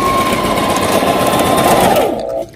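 Sewing machine stitching a handmade rakhi band, a loud steady motor whir with rapid needle chatter running continuously before slowing and stopping abruptly near the end.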